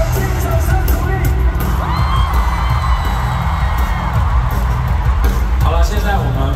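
A large audience at a concert in Singapore roars and cheers in a loud, steady wash of crowd noise that holds throughout, with scattered shouts rising above the din.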